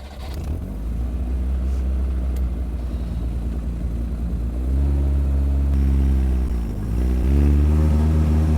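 A Robinhood 3A Lotus 7 replica car pulls away with a low engine rumble that rises in pitch through a couple of revving climbs, loud and close.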